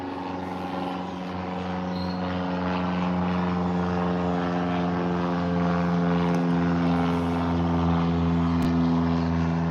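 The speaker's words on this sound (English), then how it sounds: "I had got a plane going overhead." A propeller airplane drones overhead in a steady, loud hum with strong engine tones that swell slightly as it passes, continuous for the whole stretch with no talk.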